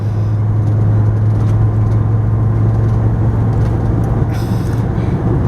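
A 1996 Winnebago Volkswagen Class B camper van cruising on the interstate, with a steady low engine hum and continuous road and wind noise heard from inside the cab.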